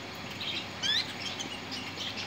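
A pair of Norwegian crest canaries sings faintly, giving brief high chirps and tweets over a constant airy background hiss, with no voices.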